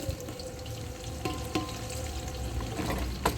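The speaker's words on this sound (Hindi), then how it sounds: "अब मैं 1 किलो इसके अंदर प्याज डालने लगी।" One kilo of onions hissing and sizzling in a pan of hot oil as they start frying for chicken haleem, with a steady close crackle and occasional stirring clicks.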